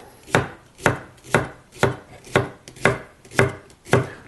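A sharp knife chops vegetables on a cutting board with eight evenly spaced, crisp thuds, close and loud, with no voices.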